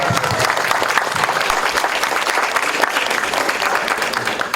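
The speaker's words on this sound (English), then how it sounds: "Another round of applause" Loud, sustained applause from the audience at a Losar and Tsagan Sar celebration in New York City, forming a continuous roar of many hands at a steady level.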